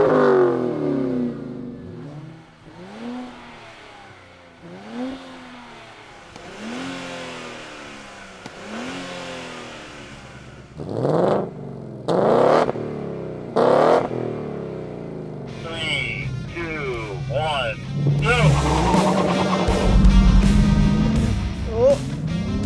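Three cars line up for a drag race: a 2023 Nissan Z, a Mustang GT and a Dodge Challenger Scat Pack. Talk gives way to loud engine revs in sharp bursts, then a sustained roar of hard acceleration.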